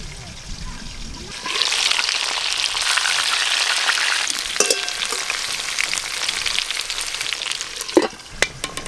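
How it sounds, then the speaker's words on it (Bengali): Stuffed pointed gourds (potol) frying in oil in a pan, a strong continuous sizzle that starts abruptly and holds steady, with occasional clinks and stirring knocks near the end and a voice speaking before and under it. "পটলগুলো একটু ভালো করে ভেজে নেব"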